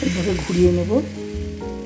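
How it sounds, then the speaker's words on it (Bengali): Food sizzles in a hot frying pan through a short stretch, a steady crackling hiss beneath a voice speaking over it. "এবার আমি ভাজা শুরু করব"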